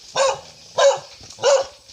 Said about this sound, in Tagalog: Aso. Nakakatakot eh.